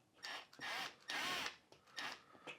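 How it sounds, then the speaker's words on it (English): A power drill whirs in several short bursts, rising and falling in pitch as it pre-drills and drives screws for a ceiling fan mount, with brief pauses between runs, close by. "I'm going to pre-drill in just a little bit 2 screws"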